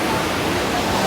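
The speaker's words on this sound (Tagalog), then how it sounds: "Malakas ang alon ng dagat ngayon" Strong sea waves pound a shoreline where a boat is being hauled ashore, a loud, dense, unbroken rushing roar of surf close by.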